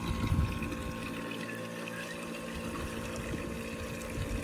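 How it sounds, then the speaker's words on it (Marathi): Continuous running water with a low pump-like hum underneath as 19-19-19 fertilizer is mixed for a cotton field, steady and moderately loud, no voices. "थोडं पाणी पण चालू आहे, मिक्स पण करणं चालू आहे"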